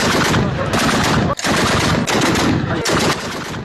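Sustained machine-gun fire from Afghan army positions on Pakistani border posts, loud and dense bursts running almost continuously with two brief breaks.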